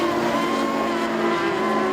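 Street stock race cars roar around the Kingaroy Speedway dirt oval during a night race, a loud sustained engine drone with a steady pitched whine and no clear passes or voices.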